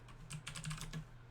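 Typing on a computer keyboard, heard as a quick run of soft, close key clicks at an uneven rhythm, quiet and without any voice.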